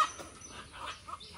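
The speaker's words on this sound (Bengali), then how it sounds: "আমার মা 2টা মোরগ ধরতে এসেছে" A rooster in a village poultry coop gives a few soft, brief clucks, faint and close against quiet background noise.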